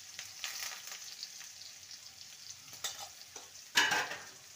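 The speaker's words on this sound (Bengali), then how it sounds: "ভালো করে নেড়ে নেব।" Amaranth leaves fry in a pan with salt and turmeric while being stirred: soft, low sizzling with scraping strokes, ending in one louder scrape near the end, close and quiet, without voices.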